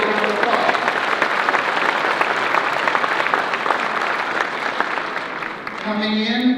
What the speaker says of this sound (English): Let's give Don a big round of applause